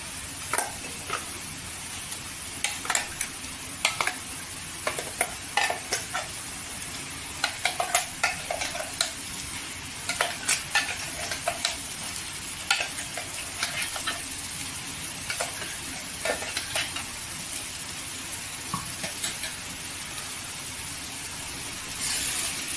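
Ground masala paste sizzling steadily in hot oil for chana masala, with intermittent scraping clicks of a spoon stirring the pan and no talking.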